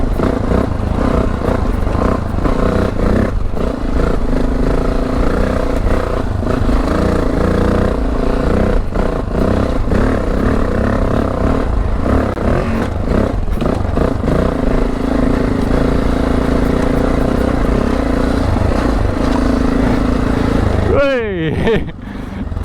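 An adventure motorcycle labors up a steep hill climb on a Transylvanian trail in Romania, its engine droning loud and close throughout with heavy wind rumble and gear clatter, easing off briefly near the end.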